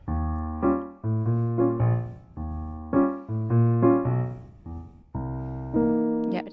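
Christmas duet passage on piano, with short phrased chords and bass notes in a stop-start rhythm, gaps between phrases, ending on a higher sustained chord after a leap up, close and alone.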